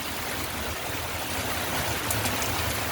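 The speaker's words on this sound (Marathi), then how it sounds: "सर्व रस्त्यावरून पाणीच पाणी झालेलं आहे" Steady rushing water, a continuous broadband wash of heavy rainwater runoff streaming across roads in Jakhinwadi, Karad, with no voices.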